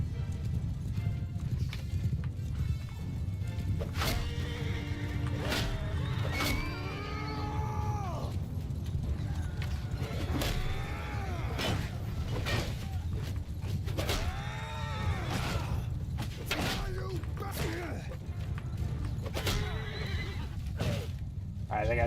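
A horse neighs and whinnies several times in the battle game Mount & Blade II: Bannerlord, with hoof clops and rumbling battle noise underneath.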